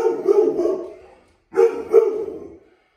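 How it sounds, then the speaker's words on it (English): A guide dog gives two loud, close bursts of barking, each a quick cluster of deep woofs, separated by a brief pause in a quiet room. "You're such a good guide dog, Ruby."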